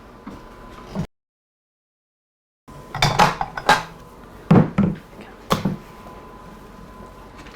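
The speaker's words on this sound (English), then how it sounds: "We're gonna go ahead and mix that up again" Cheeseball mixture with onion and bell pepper being stirred in a bowl, giving a run of clanking, scraping utensil knocks after a brief silence, fairly close and loud, with no talk.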